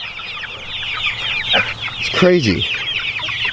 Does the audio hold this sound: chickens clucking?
yes